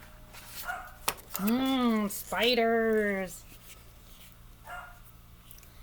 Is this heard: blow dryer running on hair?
no